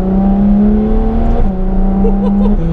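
A Ferrari F12 TDF V12 idles and burbles at very light throttle close by, a loud, steady low drone with slight pitch shifts and no talk over it.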